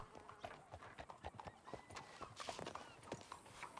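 Horse hooves clip-clop with a short whinny in the Red Dead Online video game, irregular hoofbeats fairly quiet under light background sounds.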